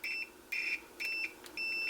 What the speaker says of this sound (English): If we take our meter in continuity mode, remember, so it beeps